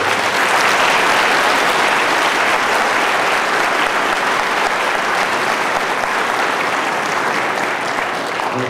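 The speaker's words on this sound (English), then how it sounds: "I think they deserve a great round of applause." Sustained, loud applause from an audience at a Greenville County Schools honor band concert, steady and dense throughout with no talk over it.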